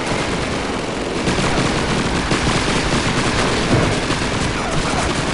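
Rapid submachine gun fire in the World War II shooter Call of Duty 2, dense continuous bursts of automatic shots layered with heavier battle noise, loud and close throughout with no voices.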